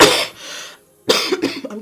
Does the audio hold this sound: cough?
yes